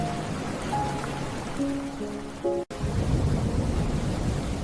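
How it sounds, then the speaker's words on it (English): Soft rain falls steadily in a quiet, misty coastal setting by cliffs and a lighthouse, a gentle continuous patter with faint low tones drifting underneath and a brief dropout before the hiss resumes. "only the sound of soft rain remained"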